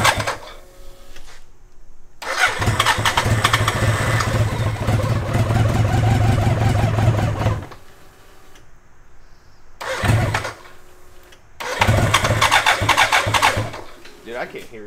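A flood-damaged 1000cc trophy kart engine cranks in two long, loud bursts broken by quiet gaps, a short catch between them, with voices talking in the pauses.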